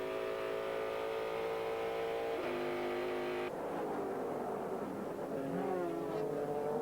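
Onboard sound from race car number 50 during a 2001 American Le Mans Series race at Mosport, a loud, steady engine note that shifts pitch as gears change, continuous and close.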